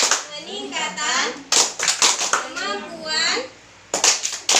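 A group of women chant a rhythmic clapping routine at a family-capacity meeting, voices singing in phrases punctuated by sharp bursts of synchronized hand claps, close and lively.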